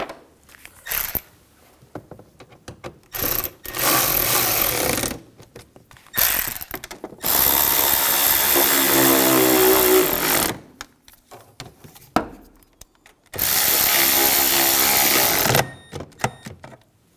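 A power tool drives and tightens screws on a 2007-2013 BMW X5 3.0L inline-six panel during fuel pump replacement, running in loud sustained bursts of several seconds separated by short pauses and clicks.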